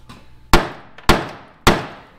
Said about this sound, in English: You just need me to hit them and not throw the hammer.